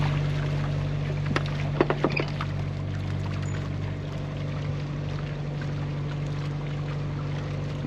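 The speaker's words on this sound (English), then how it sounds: "You hear the fish jumping" Fish jump and splash in the water beside an anchored sailboat at White Cove, heard as a few brief splashes close together early on, laid over the steady hum of the boat's engine.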